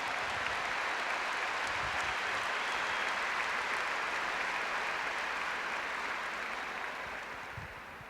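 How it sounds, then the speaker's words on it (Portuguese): A church congregation applauds at a charismatic religious gathering, a dense, loud, continuous roar of clapping that holds steady and begins to fade toward the end. "Now give the Lord a bigger clap for that."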